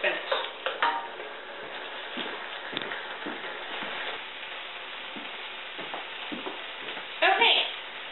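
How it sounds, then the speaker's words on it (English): Tofu scramble cooks in a pan while being stirred: a steady frying sizzle with occasional scrapes and taps of the spoon, close by, ending in a brief louder clatter. "I have cooked the tofu scramble for about 5 minutes, stirring constantly"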